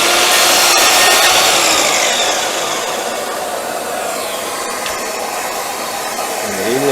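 A Festool miter saw cuts through wood while a vacuum dust extractor runs, making a loud, steady, broadband whine that holds for several seconds and eases slightly toward the end.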